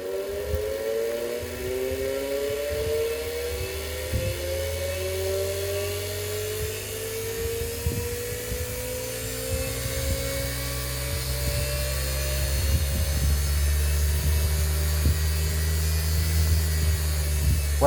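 An LG 9-wire automatic washing machine motor running on a bench outside the machine, a loud whirring hum whose pitch slowly climbs as it speeds up, with rattling clicks and a deepening rumble later on.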